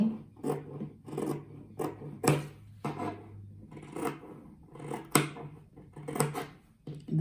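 Scissors snipping through reused material for a handmade rug, a series of crisp cuts and rustling fabric at close range, irregular in rhythm, with a faint background hum.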